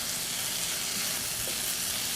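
Veggies, including red peppers and green onions, sizzling in a hot pan for an Asian lettuce wrap filling: a dense, continuous frying hiss, close and steady, without talk.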